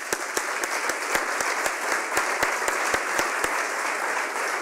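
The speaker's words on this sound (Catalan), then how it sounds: "un aplaudiment" An audience at the Premis Lletraferit 2022 awards ceremony applauds, steady clapping from many hands with a few sharper, closer claps standing out in a regular rhythm.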